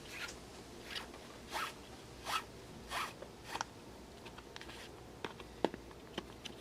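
Starter rope for a Suzuki 2.5 outboard's recoil starter drawn through the exit hole in the cover, heard as several quick, soft rasping pulls in a row, close and fairly quiet, with a few small clicks near the end.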